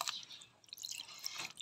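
Fish, head included, being rinsed with vinegar for kinilaw, giving soft intermittent drips and splashes of liquid, close and quiet with no talk.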